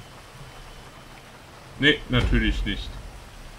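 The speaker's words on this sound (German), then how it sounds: "Ich mag den Regen hier im Spiel." Steady rain falls in GTA Online on PS3, a soft continuous hiss running throughout while a voice talks over it midway.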